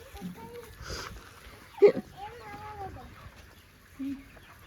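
Chickens on a poultry farm give soft, scattered clucks under a voice, faint and close, with one brief louder squawk partway through.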